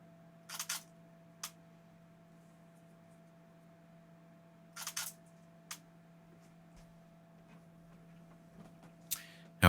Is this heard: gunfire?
no